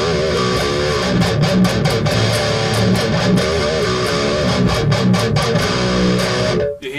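Aggressive distorted electric guitar played through a SansAmp PSA 1.1 preamp, dense and loud with choppy palm-muted rhythmic chugs, then cut off abruptly at the end.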